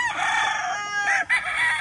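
Chickens on a farm in Maragondon, Cavite with a rooster crowing loudly and close, a long drawn-out call with a brief break near the end, with rain falling in the background.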